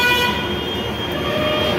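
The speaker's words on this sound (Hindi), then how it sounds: "हॉर्न पे हॉर्न" A sustained car horn blares steadily through the whole moment, loud and close amid rumbling traffic noise.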